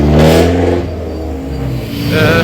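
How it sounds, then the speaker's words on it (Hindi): A motorbike engine revs loudly close by on a London street, then fades as it passes, with another engine rising again at the end. "ये पीछे बाइक गई है तो उसकी आवाज़ आई थी"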